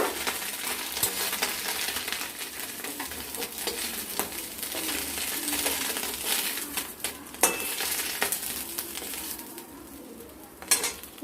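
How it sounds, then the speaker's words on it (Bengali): Small chela fish frying in mustard oil in a wok, a continuous close sizzle with occasional scraping and clinks of a spatula against the pan. "এইভাবে সবগুলো মাছ আমরা ভেজে তুলে নেব।"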